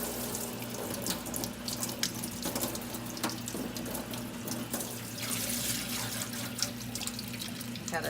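Water pours steadily onto a potted philodendron and drains through the soil, a continuous close splashing trickle like a running tap, with no talk.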